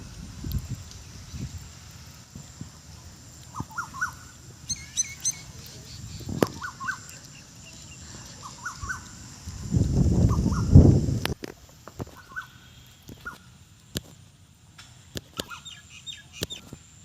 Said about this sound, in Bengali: কিতা কইতাম আপনার শুনবা পাখির ডাক খুব সুন্দর